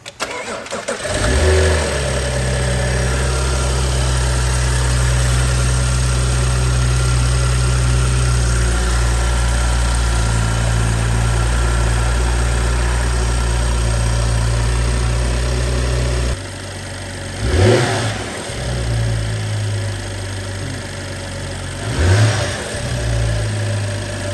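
A BMW F30 335i engine cranks and fires, then settles into a steady, loud idle close by, followed later by two brief revs that rise and fall.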